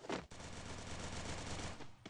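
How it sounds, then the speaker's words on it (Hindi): Rapid, continuous automatic gunfire from the video game Free Fire, loud and dense, with a sharp burst at the start and a brief break near the end. "मुन्ना तेरे ऊपर कौन गोली चला रहा है"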